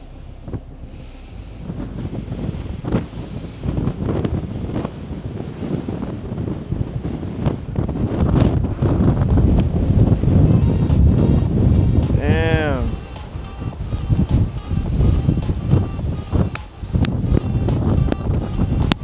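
Strong wind buffets the microphone in heavy, gusty roars throughout, with a person speaking under the blustery noise.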